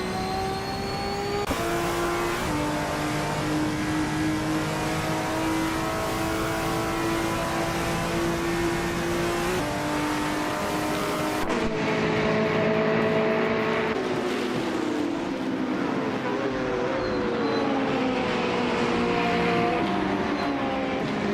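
Race cars in a video game, including a 2021 Ford Mustang in the Trans Am class, howl in a steady, loud engine roar whose pitch climbs and shifts as the cars pass and change gear, with no voices.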